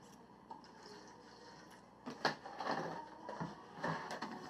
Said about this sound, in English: Shut the drawer.